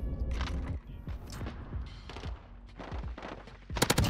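Rapid MP5 gunfire in Modern Warfare, bursts of sharp shots crackling in quick succession with mechanical clanks between them, ending in a loud cluster of shots near the close.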